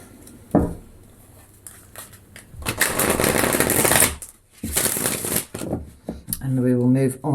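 A deck of tarot cards is shuffled in several bursts of riffling and flicking, close and crisp, separated by brief pauses, with a voice speaking near the end.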